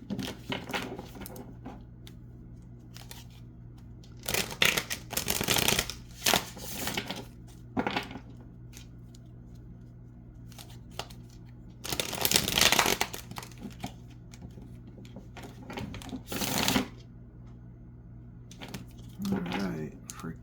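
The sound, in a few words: tarot cards being shuffled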